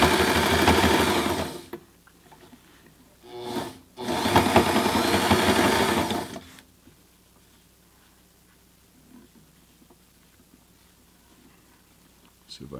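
A Sailrite Ultrafeed LSZ1 sewing machine stitches dimpled fabric in two loud, steady bursts of rapid needle clatter separated by a brief pause, then falls quiet with faint handling noise and occasional talk.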